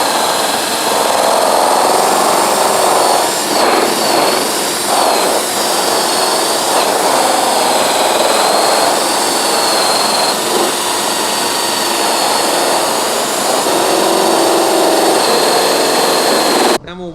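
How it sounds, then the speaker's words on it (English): A power drill fitted with a buffing pad whirs loudly and steadily over an aluminum turbine wheel for a long stretch, its pitch shifting slightly as it works across the surface. "we can take our drill here and then just run over the whole thing"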